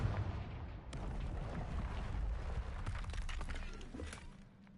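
A blasting-spell explosion in the video game Hogwarts Legacy: a sudden loud burst with shattering debris and a crackling, rumbling tail that slowly fades away.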